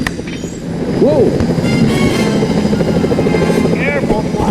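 Security helicopters in the Sly 4 video game make a loud, continuous mechanical roar and whir, with a rising-and-falling whoosh, over which voices speak.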